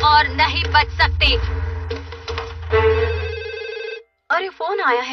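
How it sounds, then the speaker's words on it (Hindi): Telephone ringing in an animated Hindi-dubbed Doraemon household scene, a repeated electronic ring pattern sounding under and between cartoon character voices, with a brief pause before talk resumes. "अरे फोन आया है।"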